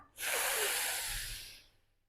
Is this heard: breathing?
yes